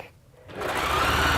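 Sewing machine running a straight stitch, starting up after a brief quiet moment into a steady, continuous mechanical whir that holds to the end, close and fairly loud.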